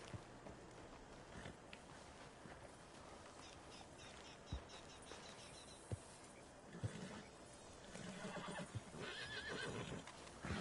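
A tall horse in Red Dead Redemption 2 neighing and snorting amid soft hoof clops and outdoor ambience, with occasional louder thumps and a busier stretch of movement toward the end.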